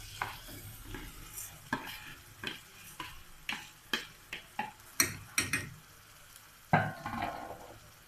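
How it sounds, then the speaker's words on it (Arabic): Rice stirred in a pan of hot ghee and oil while cooking stuffed pigeon: a soft sizzle runs under a string of sharp spoon scrapes and clicks, roughly one every half second, growing denser toward the end, with no talking. "هنقلب الرز شويه كده في السمنه والزيت"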